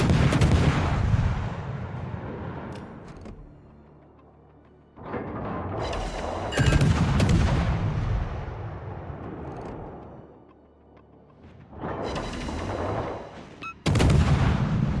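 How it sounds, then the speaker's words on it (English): Video game gunfire in a French destroyer naval battle: heavy, rumbling cannon volleys boom in long rolling bursts separated by brief lulls, loud and close with no talk over them. "Somebody else is shooting us, though"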